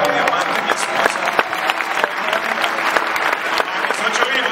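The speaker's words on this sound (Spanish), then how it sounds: "Un aplauso para mi diamante, mi esposa" A convention audience applauds the speaker's wife seated among them, a steady, lively clapping with distinct sharp hand claps punctuating the wash, sustained throughout at moderate loudness.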